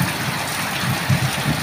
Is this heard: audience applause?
no